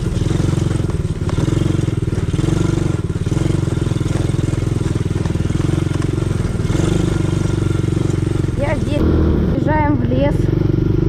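A quad bike (ATV) engine drones steadily and loudly while riding through a muddy spring forest, with clattering and bumps from rough ground; someone talks over it.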